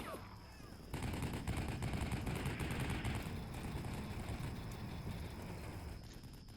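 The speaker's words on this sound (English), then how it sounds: "the striker watching my left flank easily cuts them down with its 50 cal." A Stryker's .50 cal machine gun fires in the war game Combat Mission Black Sea: dense, sustained bursts of gunfire that rattle on for about five seconds after a quiet start.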